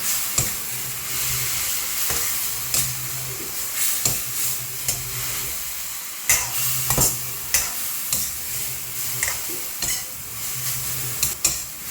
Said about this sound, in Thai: ผัดคลุกเขาให้ต้นหอมโดนความร้อน